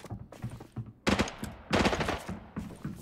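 Rifle shots in a multiplayer video game ring out in a few loud, sharp cracks with short gaps between them, close and prominent, with faint talk underneath.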